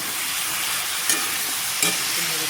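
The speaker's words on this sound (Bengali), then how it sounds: "ভালো করে ভেজে নিব।" Potato and vegetable stems frying in a pan with salt and turmeric, a continuous close sizzle with two sharp stirring scrapes.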